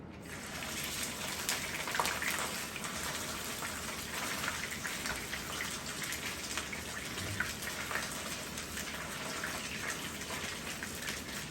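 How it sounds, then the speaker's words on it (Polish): Steady, dense sizzling and crackling of a zander fillet frying skin-side down in hot olive oil, constant and fairly close throughout. "i zaczynamy od smażenia skórą do dołu."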